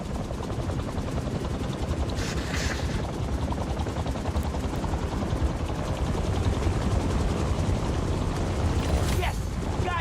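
A helicopter rotor thumps and whirs in a steady, loud wash in Marvel's Spider-Man 2, with bursts of game effects layered over it.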